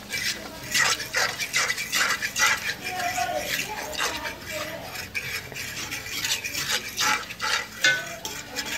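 Flour being stirred into onion grease in a pan for homemade gravy, giving a steady scraping, clinking stir with light sizzling, close and continuous, under a talking voice.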